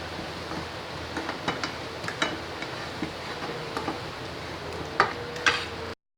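Raw chicken mixed with salt and black pepper, soft wet squelching and light clicks of a utensil against a bowl in an irregular rhythm, fairly quiet, no talk.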